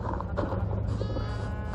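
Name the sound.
sheep bleating in video game Minecraft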